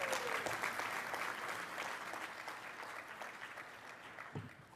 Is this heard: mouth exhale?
no